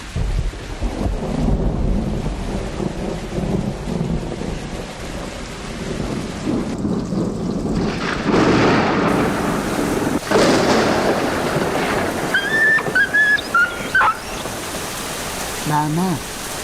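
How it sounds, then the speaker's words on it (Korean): Heavy rain pours steadily while deep thunder rumbles through the storm, swelling loud and close at times, with a few high chirping sounds near the end. "비가 오기 시작하고 멀리서 우르릉 소리가 들리자"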